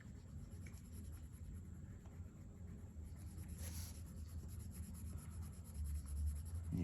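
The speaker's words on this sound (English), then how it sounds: "And colouring in as neatly as possible using some pencils." Coloured pencils scratch and rub softly and steadily across paper while colouring in a simple drawing of a girl elf, a faint, continuous close-up scribbling with no voices.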